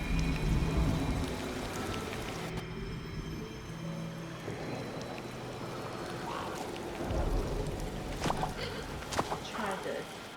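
Steady rain in the farming life-sim game Disney Dreamlight Valley, a continuous hiss of falling drops with soft splashy texture, running under a calm game soundtrack throughout.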